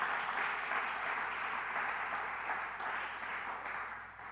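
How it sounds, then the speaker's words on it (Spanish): Congregation applause for the Lord during a church sermon, a steady, moderately faint wash of many hands clapping that stays even throughout and slowly fades toward the end, without talk over it. "eso merece un aplauso al Señor"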